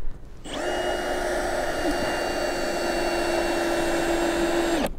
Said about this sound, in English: I got the cleat in. I'm just screwing it in.